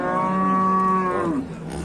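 A cow gives one long, loud, close moo at a livestock market, the call lasting over a second before trailing off into quieter background noise.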